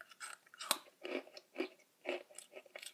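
Someone chews rich astronaut chocolate food in soft, close, rhythmic bites, about six chews with short gaps between them, quiet and with no talking.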